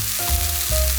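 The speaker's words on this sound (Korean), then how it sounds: "이렇게 노릇노릇하게 구워주는 거예요." Onions sizzle and fry in a hot pan as they brown, a steady close crackle with faint stirring noises in the background.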